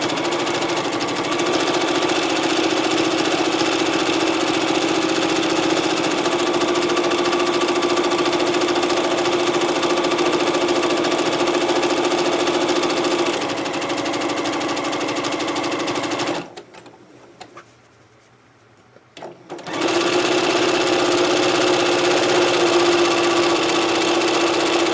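Sewing machine running steadily while stitching a pillowcase, a loud continuous mechanical whir with a brief pause in the middle before it starts again.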